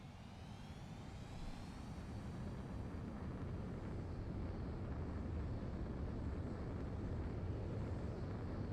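Jet aircraft in Ace Combat 7 throttling up for takeoff on a runway, a rising whine sweeping upward over a deep, swelling rumble that grows steadily louder and fills the whole stretch.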